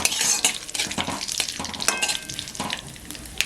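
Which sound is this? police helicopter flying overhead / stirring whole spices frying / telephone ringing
stirring whole spices frying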